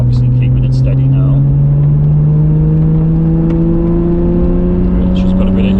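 A 1993 Nissan R32 GTR engine runs at a steady, low drone while warming up on the road, its pitch rising slowly and evenly throughout, loud and close from inside the car.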